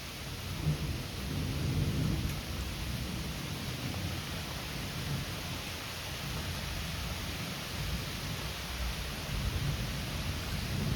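Thunderstorm with steady heavy rain hissing throughout and low rumbling thunder beneath, continuous and enveloping for the whole stretch, no voices.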